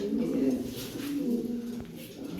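Military and homer pigeons coo softly in a loft, low murmuring calls running steadily beneath a faint background hum, with no talk over them.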